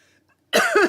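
A single sharp cough bursting out after near silence, close and loud, with a rough throaty double push.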